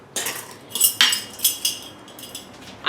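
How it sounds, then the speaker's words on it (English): Canning salt spooned into jars packed with chicken, giving several light metallic clinks and scrapes of a spoon against glass at close range, with no talking. "Our next step is going to be to put 1/2 teaspoon of salt"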